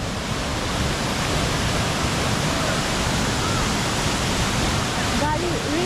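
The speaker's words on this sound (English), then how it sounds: "Bali really has amazing waterfalls." A waterfall in Bali roars as a dense, steady rush of falling water, loud and close, filling the whole stretch without a break.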